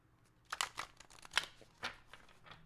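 A deck of tarot cards being shuffled by hand, heard as a series of soft, crisp riffling and rustling bursts, close and quiet, with no talking.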